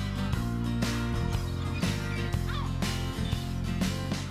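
Loud, harsh seagull calls ring out repeatedly over steady urban background noise in Gloucester, with a continuous low droning beneath them.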